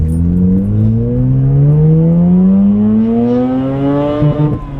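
A sports car engine revs loudly and close by, its pitch climbing smoothly for about four seconds before dropping back.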